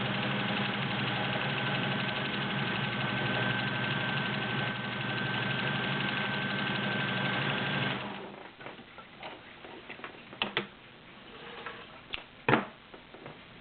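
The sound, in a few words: vintage Kenmore model 1803 sewing machine stitching stretch stitch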